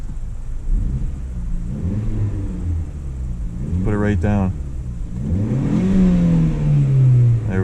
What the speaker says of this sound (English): hear the exhaust a little bit